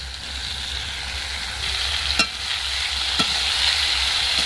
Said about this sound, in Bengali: এবার আমি কেটে রাখা আলুগুলো দিয়ে দেব।